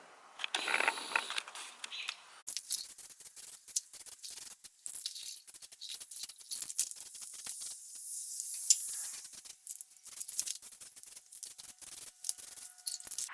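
Ratcheting and metallic clicks as a C-notch is bolted into the frame of a 1970 Chevy C10 pickup, coming in uneven bursts of wrenching with short pauses, close by and moderately loud, with no talking.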